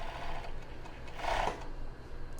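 Sewing machine stitching elastic onto a bra, a short, fairly soft run of motor hum and needle rattle lasting about two seconds.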